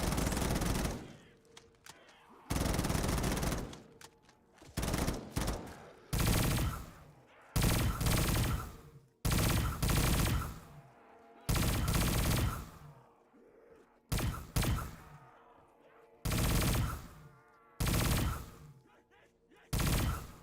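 Gunfire from a gun fitted with a foregrip in the Black Ops 3 custom zombies map Quiet Cosmos, heard as about a dozen loud, close bursts of rapid shots, each roughly a second long, separated by short pauses.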